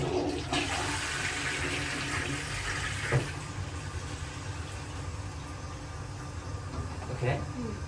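A toilet in a Hong Kong men's room flushes with a long rushing, gurgling wash of water that fills most of the span, with brief knocks over the steady flow.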